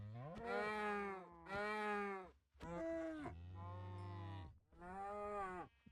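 Minecraft cows let out repeated drawn-out moos, four or five calls in a row, close and clear, with brief gaps between them.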